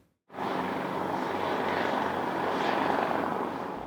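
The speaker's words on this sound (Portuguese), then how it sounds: "O helicóptero da Marinha chegou na base aérea de Belém no início da tarde" A Navy helicopter arrives at the Belém air base in Pará. Its rotor and engine noise rises abruptly from near silence into a loud, steady, close roar.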